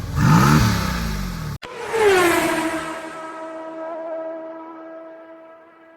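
Mercedes-AMG GT S starting up in normal mode: a loud starter burst and bark at ignition, a brief cut, then a second flare of revs that settles into a steady, humming idle, close and alone.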